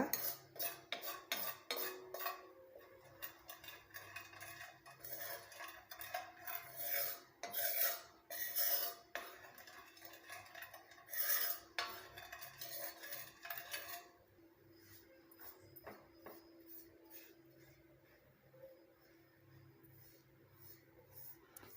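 Dry roasting in an iron kadai over a low flame for a homemade natural hair dye, heard as busy metallic scraping and stirring strokes that go quieter and sparser toward the end, with no talking.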